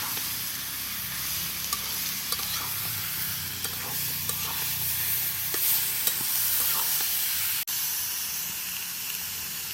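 Chicken hits hot oil in a pan and sizzles with a loud, steady crackling hiss, broken by occasional scrapes and taps of stirring and one sharp knock near the end.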